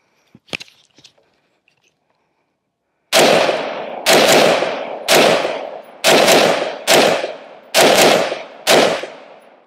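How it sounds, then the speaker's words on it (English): A Primary Weapons MK111 Mod 2 AR rifle fires seven loud, close shots at roughly one-second intervals, each a sharp crack with a decaying tail, after a few faint handling clicks. "So I'm just gonna shoot a little bit before I start doing my other training"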